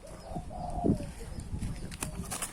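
Soft dove cooing in a noisy outdoor setting, low murmuring calls partly buried under background hiss and faint chatter.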